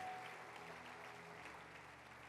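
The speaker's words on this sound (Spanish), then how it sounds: "Dale ese aplauso más fuerte." Soft, distant applause from a church congregation during a sermon, a faint, even patter of many hands heard over a low background hum.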